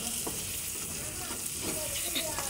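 Chicken frying in a pan for a home recipe makes a constant bright sizzle and crackle, with faint stirring knocks now and then, close and steady and with no talking.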